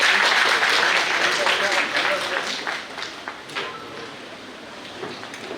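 Audience applause at a Sattriya-style dance drama performance in Sivasagar, a dense burst of clapping that is loud at first and then fades and thins out over several seconds.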